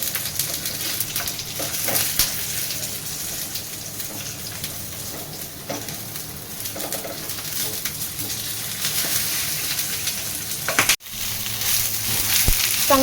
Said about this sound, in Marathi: चांगला भाजून घ्या टमाटराला.